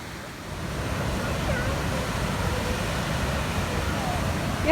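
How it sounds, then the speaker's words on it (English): Steady rushing roar of a waterfall near Yellowknife in summer, a broad continuous wash of water noise that swells slightly after the first half second and holds even and loud throughout, with no voices over it. "You can hear the waterfall."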